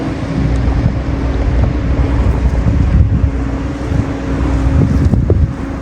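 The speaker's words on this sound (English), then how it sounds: "Another great big container boat coming up behind him." A large container boat's engine rumbles steadily nearby on a canal, a low continuous drone with a faint tonal hum, wind buffeting the microphone throughout.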